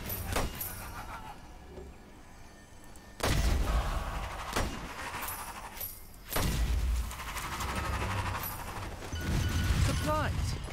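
Gunfire in the video game Strange Brigade: heavy, booming shots and blasts burst out in loud clusters, separated by quieter stretches of rumbling game ambience.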